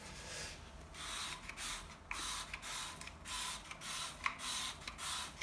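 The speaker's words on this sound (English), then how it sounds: "we're going to give it another shot of this mould spray" Repeated short hissing bursts from a spray nozzle of HG mould spray on a bathroom or kitchen wall, about a dozen pumps in a steady rhythm, close up and fairly quiet.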